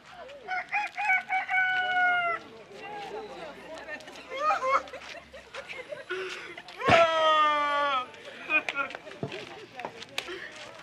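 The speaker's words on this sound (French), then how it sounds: "avant le chant du coq." A rooster crows loudly and close by, with a long rising call near the middle, amid clucking fowl and a busy background of voices.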